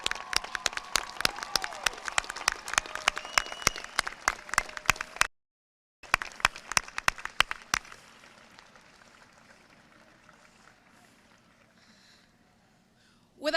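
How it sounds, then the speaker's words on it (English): An audience at a SUNY Potsdam bachelor's graduation ceremony applauds with brisk, distinct hand claps that break off briefly, resume, then thin out and fade to near silence. "let's give a big round of applause to everyone who supported you and helped you get here today"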